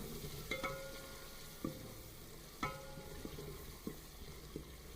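A spoon stirs turmeric into onions frying in a pan for aloo anday ka salan, with soft sizzling underneath and a few sharp scrapes and clinks against the pot at irregular intervals.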